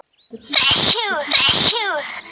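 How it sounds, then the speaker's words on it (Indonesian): Two loud, close sneezes in quick succession from a person in a school drama about hairy caterpillars, each an explosive burst followed by a brief wheezy tail. "hingga membuat para warga bersin dan kulitnya seketika menjadi gatal"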